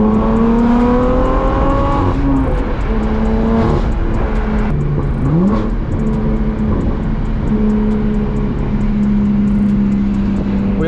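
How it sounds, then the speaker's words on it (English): A BMW F80 M3 exhaust with a flame tune revs hard and loud, its pitch climbing and dropping through repeated sweeps of sustained, rasping engine roar with no talking. "It literally sounds crazy, bro. This exhaust is insane."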